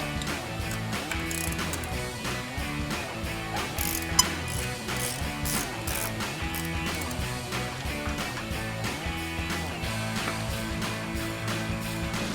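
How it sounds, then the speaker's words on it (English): A ratchet removing the 17mm lower shock bolt on a Toyota Tacoma during a suspension lift install, heard as continuous rapid clicking that is steady and close throughout. "now we're going to take out our lower shock bolt with a 17mm head and 17mm nut"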